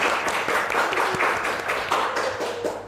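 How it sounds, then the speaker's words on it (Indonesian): Studio audience claps for a guest speaker in a loud, continuous round of applause with dense overlapping hand claps, holding fairly steady and tapering only slightly toward the end. "Tepuk tangan dulu dong buat narasumber kita."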